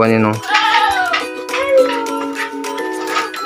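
Goats on a goat farm bleating loudly and close, several overlapping wavering cries one after another, with people talking faintly beneath them.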